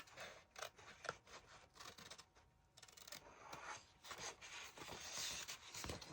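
Scissors fussy cut paper pieces at close range: quiet, repeated snipping and rustling in an irregular rhythm, soft and intimate with no talking.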